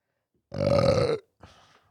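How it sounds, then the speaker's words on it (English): A single loud, drawn-out burp of about three-quarters of a second, close up and isolated, followed by a brief, much fainter throaty tail. "Please don't burp. That offends me."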